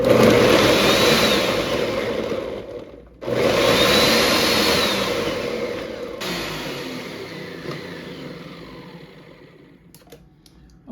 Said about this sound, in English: that is the end of blending up the coconut.